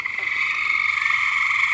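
Hundreds of gray tree frogs call at night in a dense, steady chorus of overlapping high trilling that never lets up.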